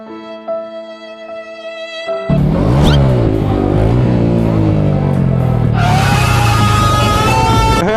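A Yamaha MT-09 motorcycle revs hard close up while held in place with the clutch slipping, the engine snarling through rising and falling pitch sweeps after a quieter tonal idle, loud and sustained until the end.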